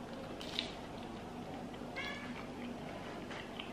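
A cat meows indoors near a person eating a late-night meal, one or two faint mews rising briefly over steady room noise.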